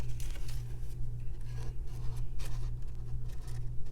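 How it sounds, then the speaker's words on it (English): Scissors cutting paper diagonally toward a folded corner while making a pressed flower envelope, close scratchy slicing strokes in a steady run over a low hum. "just cutting diagonal down to that corner right there"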